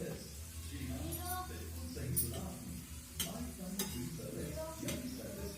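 Potatoes frying in a pan and being stirred, with soft sizzling under scattered scraping clicks of a utensil, close by with a voice faintly present beneath.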